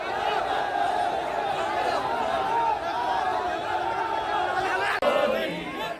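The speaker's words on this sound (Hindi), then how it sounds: "1 लाख से अधिक लोगों की भीड़" Large crowd of Karni Sena protesters, Rajput community members carrying swords and sticks, massed on a street in Agra; a dense, continuous roar of many voices and chatter throughout, with a brief sharp break near the end.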